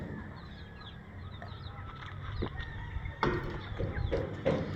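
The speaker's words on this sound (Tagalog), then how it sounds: "meron pa tayong mga sisiw" Chicks and chickens in a backyard breeding area cluck and peep in short, scattered calls, fairly quiet and close, with a few sharper clucks toward the end and no talk.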